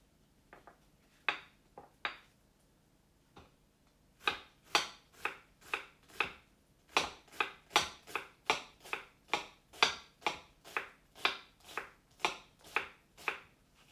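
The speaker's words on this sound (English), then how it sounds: "I'm just putting much more knife strokes into the onion to get a smaller cut at the end" A knife finely mincing an onion on a cutting board, with a few scattered taps and then a steady run of crisp, evenly spaced chopping strokes, close and fairly quiet with no talking.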